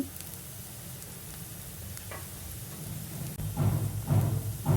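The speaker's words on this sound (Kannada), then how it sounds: "ಈರುಳ್ಳಿ ಚೆನ್ನಾಗಿ ಎಣ್ಣೆಲಿ ಬೆಂದಿದೆ. ಇದಕ್ಕೆ ಒಂದು ಸ್ವಲ್ಪ ಅರಿಶಿನ ಹಿಟ್ಟು ಹಾಕಿ" Onions frying in oil with a pinch of turmeric powder added, a soft steady sizzle that swells louder and crackles more toward the end, with a few light stirring sounds.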